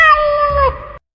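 A cat lets out a single loud, close meow lasting about a second, its pitch wavering and dropping toward the end before cutting off.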